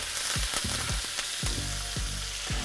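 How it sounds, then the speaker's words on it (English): A ribeye steak fries in a hot pan as butter is spooned over it, with a loud constant sizzle and regular thuds of the spoon about every quarter second. "And this process is called basting."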